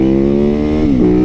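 Supermoto motorcycle engine revving loudly and close, a steady harmonic drone that dips in pitch briefly near the end before settling, with no talk.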